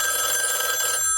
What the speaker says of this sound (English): Let it ring. Let it go on ringing.